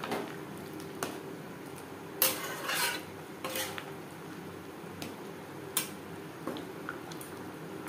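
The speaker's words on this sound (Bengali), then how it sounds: "গ্রেভির সাথে গরম মশলা পাউডার বেশ ভালো করে মিক্সড করে দেওয়ার পর" Half a spoon of garam masala powder is mixed into a soyabean and potato curry gravy with a utensil, giving faint, scattered clinks and scrapes against the pot at a low, quiet level with no one talking.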